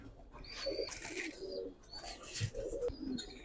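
Domestic pigeons of racer and colored breeds coo softly nearby in a bird market, with overlapping low coos, some chirps and a little wing flapping.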